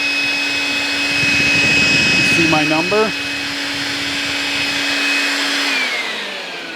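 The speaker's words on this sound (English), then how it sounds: "So I'm just vacuuming some of that up." A Milwaukee M12 cordless vacuum whines steadily up close throughout, its motor tone holding level while clogged debris is sucked up; someone speaks briefly midway over the drone.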